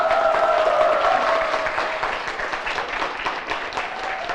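Seated audience at a Korean business presentation claps steadily in a broad, continuous wash that eases slightly after the first second, with a faint sustained tone underneath.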